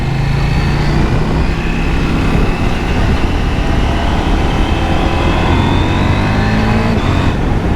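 A KTM 790 Duke motorcycle is ridden, its engine droning loud and close with shifting pitch as it accelerates, under heavy steady wind rush.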